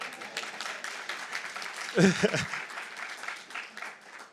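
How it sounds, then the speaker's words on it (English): An audience at a community talk claps in a steady patter, a short voice rising briefly in the middle before the clapping continues and tapers. "You can clap again."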